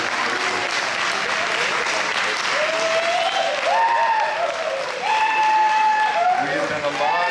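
Audience applause for the band at the 2018 5th West Bezirksfest in Leavenworth, WA: steady, full clapping from a crowd for about seven seconds, with voices and whistle-like cheers rising over it.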